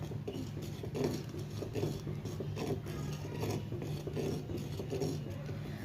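Almond milk shake being stirred continuously in a pan, a steady scraping and rubbing of the spoon against the pan bottom with a low hum beneath, close and even throughout.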